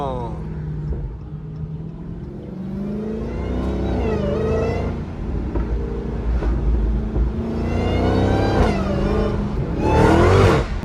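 A Dodge Hellcat with an aftermarket Corsa exhaust revs hard and loud, its deep rumble rising and falling in repeated surges over about eleven seconds, with a voice briefly heard over it.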